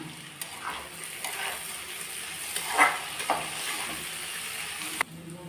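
Diced onions frying in hot oil with garlic for mutton do pyaza, a steady close sizzle broken by occasional stirring scrapes and clinks of a spoon against the pan.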